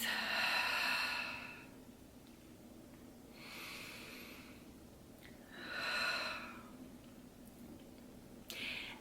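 Slow, deep breathing close to the microphone: three long airy inhales or exhales spaced a couple of seconds apart, soft and hushed, with a short sniff near the end.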